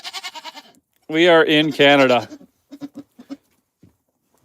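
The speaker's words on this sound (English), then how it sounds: "Mom and her 2 baby goats," A mother goat and her two newborn kids bleat in a tarp-covered pen in northern Canada. Two long, loud, wavering bleats come up close, followed by softer short calls, with a person speaking briefly just before them.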